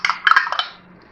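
An egg is beaten in a bowl in a home kitchen, giving a quick run of close, bright clinks and scrapes of utensil against the bowl that fade after about half a second.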